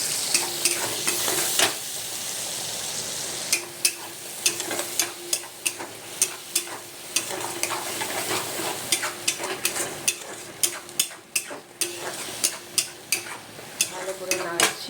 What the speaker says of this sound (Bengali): আমি এটা তেলে দিয়ে দেবো। দিয়ে এবার ভালো করে তাকে নাড়বো।